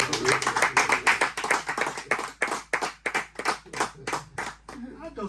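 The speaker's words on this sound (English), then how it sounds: "can we just clap for this man?" A group of people applauds in a radio studio for a music executive, steady rapid clapping that rises and tapers over about five seconds, loud and close with some background voices mixed in.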